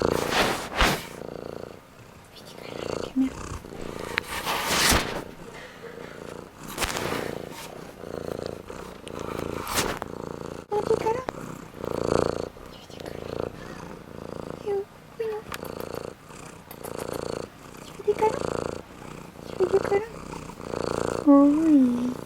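Pet cat purring close up, a soft rhythmic rumbling that swells and fades with each breath over a long stretch, with occasional louder bursts and faint vocal sounds.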